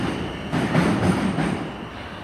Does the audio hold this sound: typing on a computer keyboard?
no